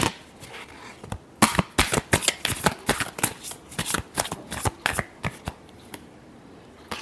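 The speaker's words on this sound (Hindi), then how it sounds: "Last shuffle." Tarot cards are shuffled by hand in quick, crisp riffling bursts, a dense run of sharp papery slaps and flutters close to the ear, with no talking over them.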